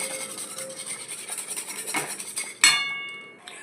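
Two spoonfuls of powdered milk are mixed in a bowl with a spoon, a continuous rhythmic scraping and rubbing close by, ending in a sharp ringing clink of metal.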